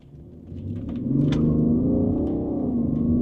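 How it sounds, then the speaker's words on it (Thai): A 2014 BMW 730Ld LCI in sport mode launching hard from standstill on an open road, its diesel engine rising to a loud, steady rumbling roar that builds and holds as the car pulls away. "จริงเมื่อกี้ออกตัวนี่ล้อฟรีเลยนะครับ"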